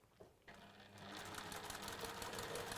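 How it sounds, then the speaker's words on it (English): A sewing machine stitches a quarter-inch seam down one side of a quilt block, starting after a brief pause and then running as a steady, close, continuous whir. "So we're going to just seam that with 1/4 inch down the one side."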